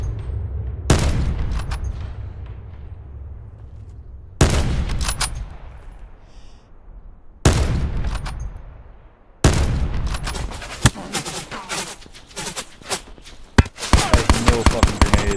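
Video game shootout gunfire: several loud, close bursts of shots separated by decaying echoes, building to rapid automatic fire near the end.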